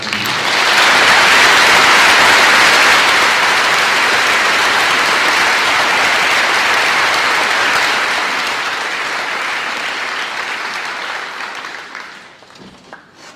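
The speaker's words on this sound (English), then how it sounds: "Would you please give a round of applause?" A graduation ceremony audience gives sustained, loud applause that holds steady for about ten seconds, then thins out and fades away near the end.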